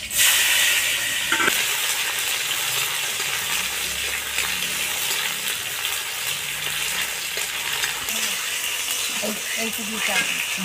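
Chopped tomato dropped into hot oil with five-spice seeds and bay leaf, giving a loud, dense sizzle that settles into steady frying with a few light clinks.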